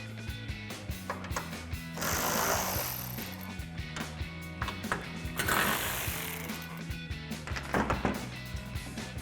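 A ratchet with a 10mm socket works on the factory taillight bolts of a 2005-2015 Toyota Tacoma, giving close bursts of rapid clicking and knocking with brief pauses between them.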